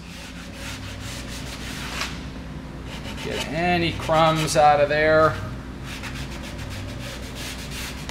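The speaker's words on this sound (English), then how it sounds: "Now with the sanding block, I can get into the routs." Quiet rhythmic rubbing of a sanding block on routed cedar, soft scratchy strokes running under a voice as he talks.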